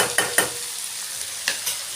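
Ivy gourd and tomato curry bubbles and sizzles softly in a pan as a spoon stirs through it, with a few brief scraping strokes over a steady hiss, close and alone.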